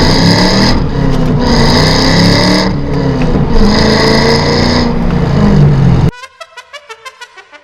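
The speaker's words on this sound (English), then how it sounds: "I'm gonna do a little first gear pull here." Pontiac GTO pulling hard through first gear, a loud, rising engine roar surging in several waves before cutting off into a sharp rhythmic ticking.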